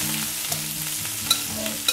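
Shrimp hit a hot pan for a holiday paella, sizzling steadily with stirring scrapes and a couple of sharp clinks, close and without talk.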